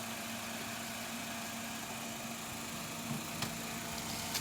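A 2011 Honda Brio V i-VTEC petrol car engine idling, a steady low hum with a faint mechanical whine, continuous and even throughout with a couple of small clicks near the end.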